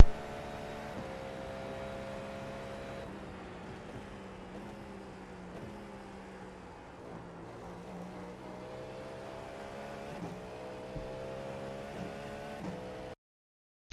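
Prototype GTP race car in the iRacing simulator flat out around Sebring, a steady high-pitched engine drone with harmonics shifting through gear changes and corners, continuous and close, then cutting off abruptly near the end.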